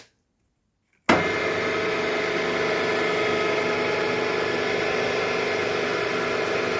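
A Cormak ZX7045BXL milling machine switches on abruptly after a second of silence, then runs with a steady, even motor hum and whine that holds constant to the end.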